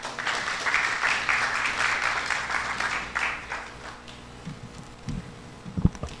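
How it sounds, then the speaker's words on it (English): Audience applause welcoming a speaker on stage at a business festival, a dense steady clapping that fills the room for about four seconds, then thins into a few scattered claps and fades. "let's welcome Alex Ajay Bram with a round of applause"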